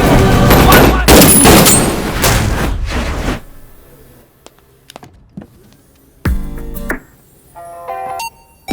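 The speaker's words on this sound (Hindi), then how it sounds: "Shoot me Rajiv, it's an order, आई से शूट मी।" Gunfire in a Hindi action film scene, a dense loud burst of rapid shots for about three seconds, then a few sharp isolated cracks and thuds over near silence, with a brief loud blast near the end.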